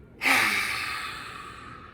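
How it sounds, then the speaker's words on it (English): A slow, audible exhale through an open mouth after a deep nasal inhale during a seated chair yoga breathing exercise, starting with a soft rush that gradually fades over almost two seconds, close and alone. "In through the nose. Exhale."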